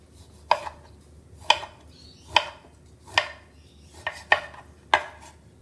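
A knife chops through citrus fruit for marmalade on a board, six or seven sharp separate cuts spaced roughly a second apart, close and clear, with no talking.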